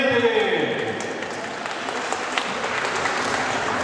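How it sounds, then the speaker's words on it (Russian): Audience applause at a rhythmic gymnastics club awards ceremony, steady and dense throughout, with voices mixed in under the clapping. "Аплодисменты."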